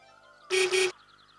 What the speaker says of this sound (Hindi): इसे कहते हैं हारन